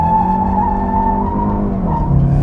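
A WEY car launching under launch control gives a close, loud, sustained engine roar with a strained tire squeal, the engine pitch holding and then shifting as the car pulls away.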